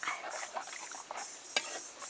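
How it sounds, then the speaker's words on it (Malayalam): A spoon stirring raw mango sardine curry in a pot, soft wet swishes and a single sharp metallic clink against the pot, quiet and close with no talk. "നമുക്കൊന്ന് ഇളക്കി നോക്കാം"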